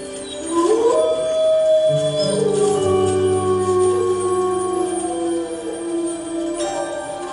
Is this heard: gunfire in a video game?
no